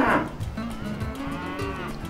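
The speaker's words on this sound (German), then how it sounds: "Bei den Kühen geht's hier bestimmt gut." Cows in the Tropico 4 video game moo in a low, drawn-out bellow that swells loudly at the start and trails off over about two seconds, with no talk over it.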